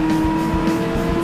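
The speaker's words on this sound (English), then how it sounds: "cars are also driving to the other direction" Cars in a VR racing game drive along a two-way street, a steady close engine whine with a constant tone and a faint tire hiss, no voices.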